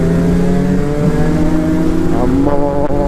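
A superbike engine revs hard and steadily close by at night, its tone rising and shifting as the bike is moved back and forth, loud throughout with a voice talking over it.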